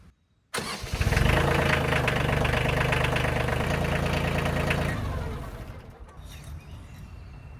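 A Kioti 50HR tractor's diesel engine cranks and fires, then runs loud and steady at a rough, knocking idle before the revs settle lower and quieter near the end.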